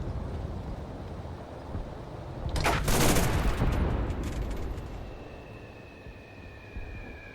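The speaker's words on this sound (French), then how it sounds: "Alors je tire sur la carlingue hein, pour que les ricochets ils butent potentiellement les ennemis proches." Gunfire in the Enlisted video game aimed at an aircraft fuselage, a sharp burst of rapid shots rising over a low rumbling background, then fading into a faint whine.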